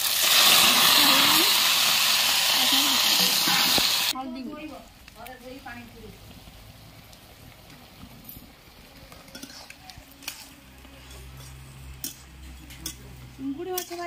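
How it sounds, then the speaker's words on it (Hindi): River prawns fry in hot oil in a village kitchen, giving a loud, dense sizzle for about four seconds. It then drops to quieter clatter and faint background activity. "चिंगुड़ी माछ भाजिले चिंगुड़ी भाजिले"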